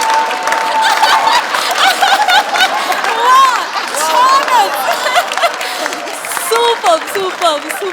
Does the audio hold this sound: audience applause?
yes